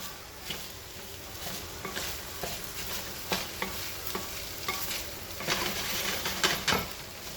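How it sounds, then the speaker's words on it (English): Chopped vegetables sauté in a pan for a meatless pasta sauce, giving a steady close sizzle broken by repeated spatula scrapes and light stirring clicks, with no talking. "Just gonna saute this up."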